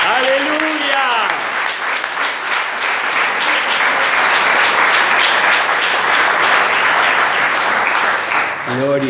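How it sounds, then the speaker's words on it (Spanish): An evangelical church congregation at an Easter service in Capitán Bermúdez bursts into loud, sustained applause. A preacher's voice is heard briefly at the start and end. "Yo creo que esto merece un gran aplauso al"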